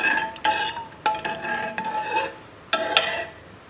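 A spoon stirs milky tea in a metal pot, clinking sharply against the sides in irregular taps and scrapes, close up with no talking.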